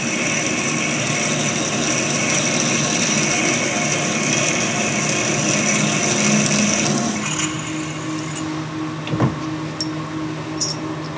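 A drill on a lathe grinds steadily through metal with a continuous whirring hum, then eases off and a few clanks ring out near the end.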